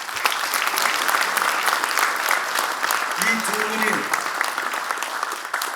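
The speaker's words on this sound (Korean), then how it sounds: "우리 모두 감사와 격려의 뜨거운 박수를 한번 다시 부탁합니다" A Democratic Party central committee audience in a large meeting hall gives sustained, dense applause of thanks and encouragement for party leaders, continuous throughout, with a speaker's voice briefly cutting in partway.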